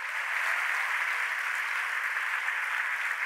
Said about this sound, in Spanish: Dale el mejor aplauso al Señor.